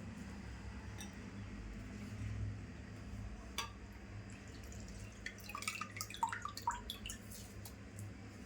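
Water draining off soaked raw potatoes, faint dripping and trickling with scattered small clinks and splashes growing busier toward the end, quiet and close, with no voices.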